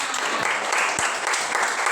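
Students clap in a classroom at a teacher's prompt, a short burst of moderately quiet, scattered applause with a few sharper hand claps standing out in the mix.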